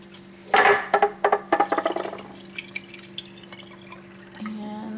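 Alfalfa sprouts being rinsed and drained with water, a burst of splashing and pouring followed by scattered drips over a steady low hum, with a brief trickle near the end.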